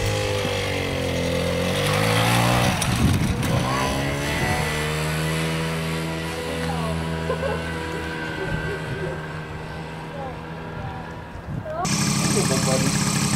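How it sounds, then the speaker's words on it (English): A Honda Hobbit PA50 II moped engine idles with a steady droning buzz that holds throughout and dips and shifts briefly near the end, while a person talks over it. "Start now, and I'm like, gotta adjust the idle a little bit."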